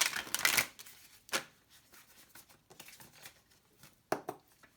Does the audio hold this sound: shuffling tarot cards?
yes